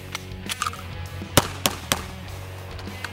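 Pistol shots fired during practical pistol shooting with HiViz LiteWave sights, several sharp reports spaced irregularly, a softer few early then three loud cracks close together, set against a faint background hum.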